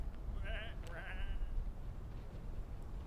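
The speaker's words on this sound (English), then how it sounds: "these are just sheep" Sheep in the video game Whateverland bleating, two wavering calls close together over a low rumbling game backdrop.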